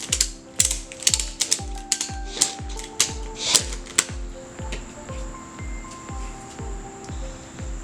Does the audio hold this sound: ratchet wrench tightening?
yes